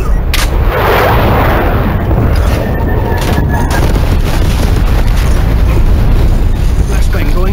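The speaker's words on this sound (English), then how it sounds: "Napalm strike inbound." Napalm strike in Call of Duty Black Ops Cold War, a continuous loud roaring blast of fiery explosions and booms filling the whole stretch, with game voice lines heard over the din.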